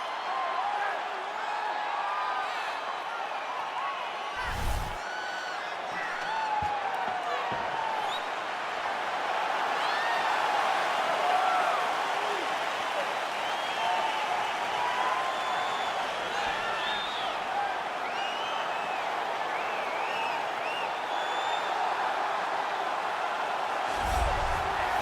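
A sold-out arena crowd in the EA Sports UFC 4 video game roars steadily throughout a flyweight title fighter's walkout, a dense, continuous wash of cheering with a couple of sharp thuds, under intermittent commentary.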